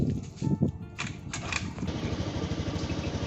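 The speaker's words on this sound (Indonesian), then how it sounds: "di sini saya akan menyalakan motor dan menghitung berapa besar getaran yang terjadi pada getaran redaman tersebut" An electric motor on a vibration damping test rig in a mechanical engineering lab starts up with a few clunks, then settles into a steady, loud mechanical hum and rattle, with no speech.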